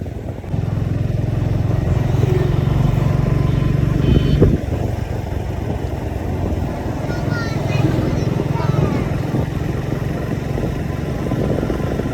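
A Suzuki Gixxer 155cc motorcycle rides along a riverside embankment road, its engine a steady, loud drone with wind rush, close to the listener, and a voice talking over it at times.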